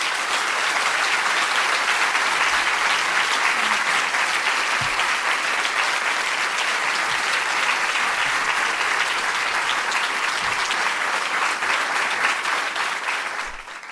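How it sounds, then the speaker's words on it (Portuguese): A large audience applauds steadily for about fourteen seconds, a dense, even wash of clapping that holds its level and tapers off only at the very end. "Este aplauso diz que estamos prontos, somos muitos."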